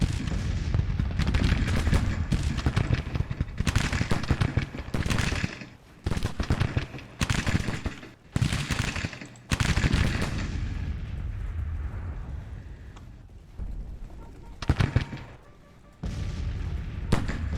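Sustained rifle volleys and booming artillery from Grand Tactician: The Civil War, a Union campaign battle near Atlanta, crackling and rumbling densely for most of the stretch with a few short lulls.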